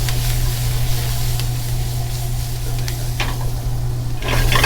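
Mushrooms and bok choy fry in a hot pan with a loud, steady sizzle, a constant low hum and occasional stirring clicks, close up and without speech.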